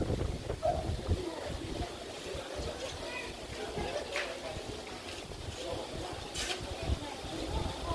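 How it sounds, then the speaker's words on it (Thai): Steady wind blows outdoors, buffeting the microphone with a low rumble, with faint background sounds mixed in. "ันนี้บรรยากาศลมพัดเย็นสบายครับ"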